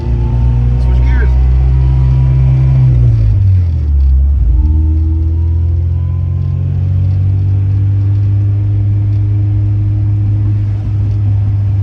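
A 2008 Honda Civic Si FA5 drives with a steady, loud engine drone that drops sharply in pitch as a gear is changed, then settles and climbs again under continuous road rumble.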